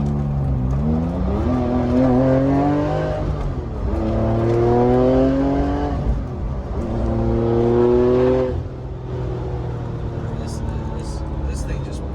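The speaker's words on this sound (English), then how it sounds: "So let's do some driving." A 1000hp Porsche 911 997.1 Turbo with an Alpha 10 upgrade, a repaired former non-runner, accelerating hard on the road: loud, close engine roar climbing in pitch through several successive pulls, with short dips at the gear changes.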